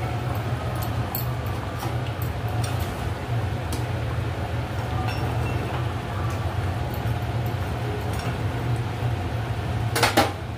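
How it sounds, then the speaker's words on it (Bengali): Snakehead fish pieces go into a pot of boiling curry with new potatoes and cauliflower: a low, constant bubbling rumble with light clinks of utensils against the pot and a louder clatter near the end. "মা এবার মাছগুলো ওই ঝোলের মধ্যে দিয়ে দিচ্ছে।"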